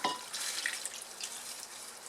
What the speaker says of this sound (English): I want to take some of the chill off of it by putting it in my hot wok.